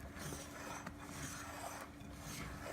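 Bread dough being stirred with a dough whisk in a bowl, a steady rasping, scraping rub that continues without pause, close and moderately quiet.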